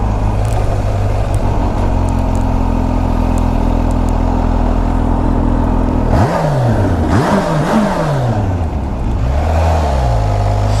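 A supercharged Kawasaki H2 SX idles loudly at first, then revs hard through several rising sweeps of acceleration with shifts between them, close and dominant, with the engine note climbing and falling in repeated pulls.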